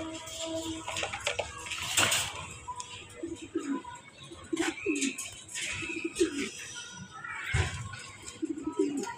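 Budapest racing pigeons coo repeatedly at close range, mixed with fluttering and rustling in a loft, while voices murmur faintly in the background.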